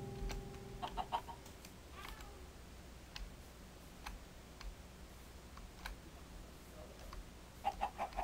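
Chickens cluck in the Minecraft video game, soft and intermittent over a quiet background, mixed with tapping keyboard clicks and a few sharp clicky sounds that cluster near the end.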